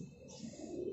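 A small Parel pigeon gives a brief, soft low coo up close, a single short murmuring call with faint background noise.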